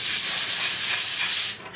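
Sandpaper rubs over a wooden breadbox base that had been coated and left rough, a loud, close, hissing scrape in steady strokes that fades out at the end.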